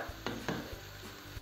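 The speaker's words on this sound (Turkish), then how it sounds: "2-3 dakikada mantarla birlikte kavuracağım." Meat and chopped mushrooms sauté in a pan, stirred with a utensil that scrapes and clinks against the pan amid a steady sizzle, a short close burst with no talk.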